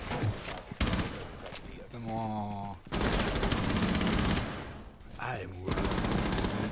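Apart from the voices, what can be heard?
gunfire in video game Rainbow Six Siege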